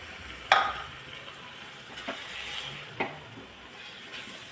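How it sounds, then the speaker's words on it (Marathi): Milk poured onto grated carrots roasted in ghee gives a faint, soft sizzle, with a sharp splash at the start and a few light stirring clinks after it. The sound is close and quiet, and no one speaks. "आता सगळ्यात आधी ह्याच्यामध्ये मी दूध टाकून घेते 1 कप."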